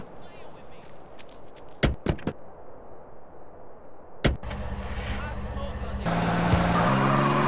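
Car engine driving in GTA San Andreas on Grove Street, a steady motor hum that swells louder and rougher toward the end, with a few sharp knocks and short bursts of voices over it.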